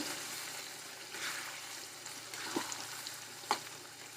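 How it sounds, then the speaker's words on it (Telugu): Coriander paste sizzles in hot oil and is stirred in a pan, with a steady crackling fry and a few sharper spatters and scrapes over about four seconds. "ఈ కొత్తిమీర పేస్ట్ని కూడా వేసి బాగా ఒకసారి కలుపుకోవాలి"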